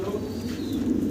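Several large pigeons in a Bangladeshi farm loft cooing steadily in soft, low, rolling murmurs, close and continuous over a faint background hum.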